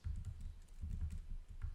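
Fingers type on the keyboard of an Acer Predator Helios 300 laptop, the RTX 2060 version, giving soft, close, muffled key taps in quick uneven bursts with no talking.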